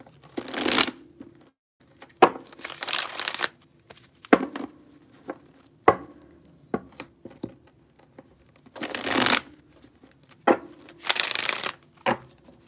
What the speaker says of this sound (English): as I started shuffling for this reading